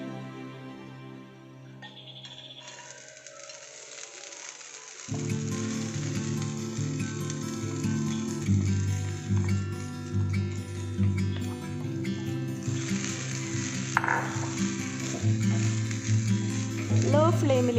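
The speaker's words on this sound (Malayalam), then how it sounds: "നമുക്ക് ഈ തേങ്ങയൊന്ന് വറുത്തെടുക്കാം." Grated coconut roasts in coconut oil over a low flame for Mangalore chicken sukka, giving a steady close sizzle with light scraping and clatter that grows louder and denser after the first few seconds.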